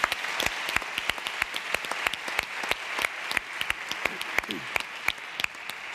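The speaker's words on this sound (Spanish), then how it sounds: "Un fuerte aplauso para Francesc." Audience applause for a speaker at a Spanish library policy conference session, a steady wash of clapping with sharp individual claps standing out, moderately near and sustained throughout.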